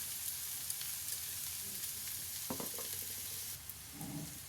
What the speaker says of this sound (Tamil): இப்போ வடிகட்டி வச்சுருந்த வாழைக்காய் எடுத்து இதில் போட்டுக்கலாம்.